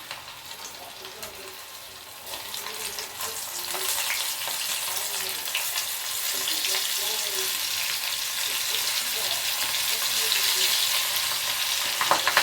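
Prawn pakoda frying in a batch of hot oil gives a steady, close bubbling sizzle that swells after a second batch goes in, with occasional stirring clatter.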